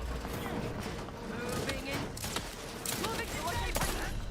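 Turrets fire in The Outer Worlds 2, with rapid volleys of gunfire crackling throughout at steady loudness, partly under a voice speaking.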